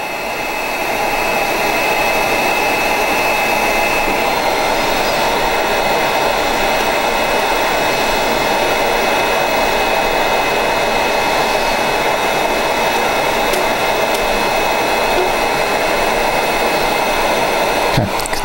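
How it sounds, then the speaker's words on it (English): A heat gun blasts steadily and loudly throughout, with no break or talk, while shrinking heat-shrink tubing onto the wires of a Digitrax TL1 decoder in a model box car. "It only takes it just a few seconds to start shrinking that heat wrap around the wires."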